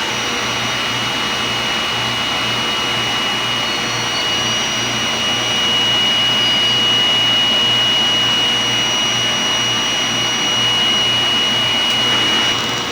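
A DTF printer runs a print head cleaning cycle, with a steady mechanical whir, a constant high whine and a low pulsing hum, running loudly and evenly without pause.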